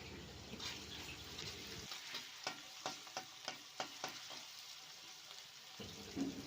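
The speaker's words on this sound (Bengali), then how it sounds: "আদাটা ভালো করে নাড়াচাড়া করে ভেজে নিয়েছি" Ginger paste being stirred and fried with onion in oil, a soft continuous sizzle punctuated by a regular series of light spatula taps and scrapes against the pan.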